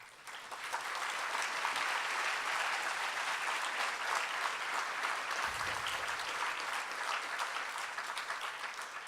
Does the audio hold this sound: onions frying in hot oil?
no